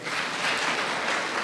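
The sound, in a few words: audience applause for award recipient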